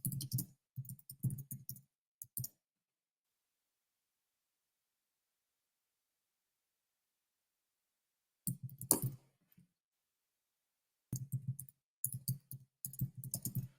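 Bursts of clicking keystrokes on a computer keyboard come in two short runs separated by a long silence, close and moderately quiet, with no talking over them.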